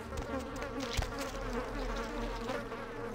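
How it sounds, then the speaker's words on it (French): Flies buzzing in the video game Vampire: The Masquerade – Bloodlines, a continuous droning insect hum over low ambient game noise, steady and close. "En tout cas, il y a de la mouche."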